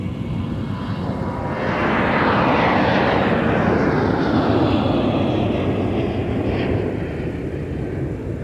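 A Sun Country airliner, Flight 261, at Minneapolis–St. Paul airport: a broad jet roar swells loudly after a couple of seconds and holds steady and powerful, thinning slightly toward the end, with no voices.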